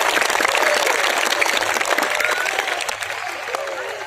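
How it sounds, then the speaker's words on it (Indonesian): A crowd claps at an outdoor religious gathering in a town square in Purbalingga, dense, loud applause with some cheering that eases off slightly toward the end. "Monggo yang mau tepuk tangan."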